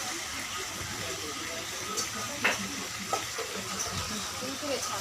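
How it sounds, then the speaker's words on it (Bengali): Chicken being sautéed in a pan for chicken curry, a soft continuous sizzle with stirring and a few utensil clinks, close by, with quiet background voices. "এবার ভালো করে কষানো হবে"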